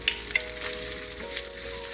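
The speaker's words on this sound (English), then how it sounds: "I'm putting my vegetables so they take the time and saute." Vegetables sauté in about two tablespoons of olive oil in a not-yet-fully-hot pan, giving a soft, steady sizzle and crackle up close with no voices.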